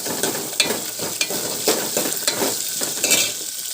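Green chilies, curry leaves and ginger frying in oil, with a steady sizzle broken by sharp scraping clicks of a spoon stirring against the pan, close and fairly loud.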